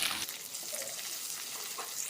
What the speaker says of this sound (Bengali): জিরেগুলি ভাজা হয়ে আসলে দিয়ে দেবো এতে কুচিয়ে রাখা পেঁয়াজ